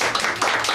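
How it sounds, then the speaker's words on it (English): Audience members at a live musical performance clap in a brief, dense burst of hand claps. "you can applaud at any time."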